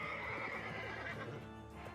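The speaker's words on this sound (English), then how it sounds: "Just in time for the horse sound" Horse neighing sound effect for a tabletop role-playing game, a long whinny over a dense, steady background with faint hoof clatter.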